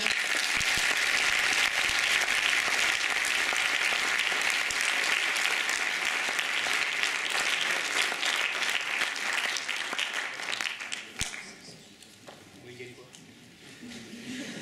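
An audience claps for the candidates at the final of a student eloquence contest at a business school in Reims. The applause is sustained and dense, then thins out and fades near the end.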